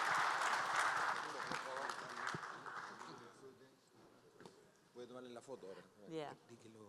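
An audience at a panel event applauds warmly, a dense burst of clapping that fades over a few seconds before a voice takes over.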